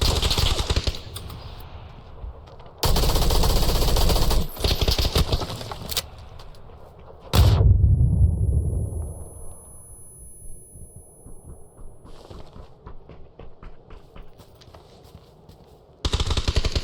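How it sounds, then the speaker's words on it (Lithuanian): Bursts of automatic gunfire in the video game PUBG come as loud, dense rapid volleys separated by quieter stretches, with sharp single shots between the longer bursts. "ten dar kairė kažkas šaudo."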